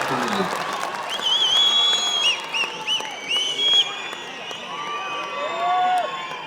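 An audience claps and cheers at the Chief Minister's speech for Nadaprabhu Kempegowda's birth anniversary. The applause runs steadily throughout, with whoops and shouting voices over it.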